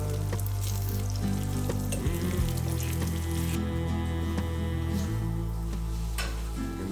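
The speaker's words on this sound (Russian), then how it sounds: "яичницы, которую я пожарила в сковородке" Eggs fry in a handmade frying pan, with a loud, steady sizzle and crackle that runs continuously throughout and no voices.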